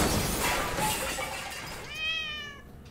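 A cat meows inside a horror video game, a drawn-out harmonic cry rising out of dense, noisy game ambience near the end, fairly clear and close.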